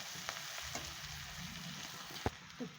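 Food frying in a pan sizzles steadily while it is turned with tongs, with a few sharp metallic clinks near the end. No one speaks.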